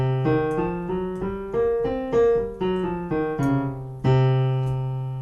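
A voice sings a minor blues scale, a sustained harmonic tone over a steady low drone, with distinct pitched notes stepping along at an even pace, loud and close.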